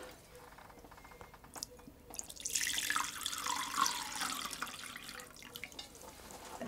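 Water poured into a vessel while a summer table flower arrangement is assembled, a soft splashing rush rising after a quiet start and continuing faintly for several seconds.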